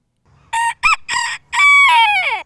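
A rooster at a county fair poultry show crows loudly and close, opening with a few choppy syllables before a long, drawn-out final call that trails downward, with no talk.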